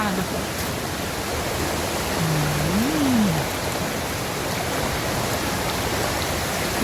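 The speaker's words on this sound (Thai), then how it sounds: "ให้ฟังเสียงน้ำไหลแล้วกันฮะ" Steady, broadband rush of water pouring down Huai Chang waterfall in Pai, Thailand, loud and continuous, with a brief faint voice-like tone rising partway through.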